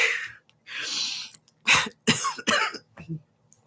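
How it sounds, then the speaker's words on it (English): A person coughs several times in close, harsh bursts with breathy gaps and a throat-clearing rasp, loud and near. "I have this cough."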